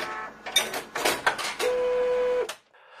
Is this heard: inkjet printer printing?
yes